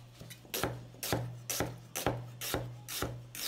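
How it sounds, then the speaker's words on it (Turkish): Knife chopping onions into rings on a wooden cutting board, sounding as eight steady, evenly spaced crisp cuts, each a sharp thunk on the board followed by a short rasp as the blade slices through. "Başta soğanlarımızı halka halka doğruyoruz."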